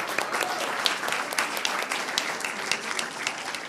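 An audience at a school board meeting claps in sustained, even applause, many hands blending into a dense patter that holds steady before easing off slightly at the end.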